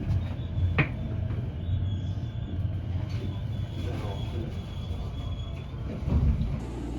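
A local commuter train runs near Yamashina in Kyoto, giving a continuous low rumble with a faint tonal whine and a few brief clunks, steady throughout and fairly close.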